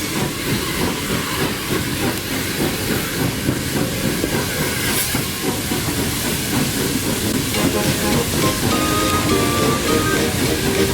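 A steam locomotive on the Kent and East Sussex Railway working hard on damp rails: loud, continuous hissing steam and rumbling chuff with wheel clatter, close and sustained throughout.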